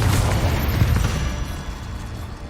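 A Confringo spell explosion in Hogwarts Legacy, a loud, dense blast that booms at once and rumbles on, slowly fading over a couple of seconds.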